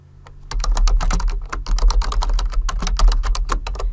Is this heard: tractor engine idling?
no